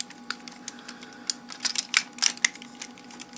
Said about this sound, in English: They'll click into place.